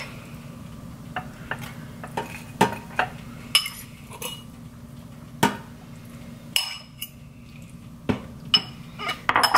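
Dishes and cutlery clink while a sandwich is made with a bowl on the counter: scattered, irregular, close taps and chinks of metal on crockery, with no talking.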